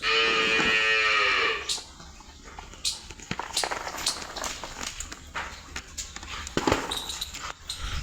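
A cow lows once, loud and close, in a Gujarat village cattle shed at milking time, then soft shuffling, footsteps and scattered knocks of farm work continue quietly.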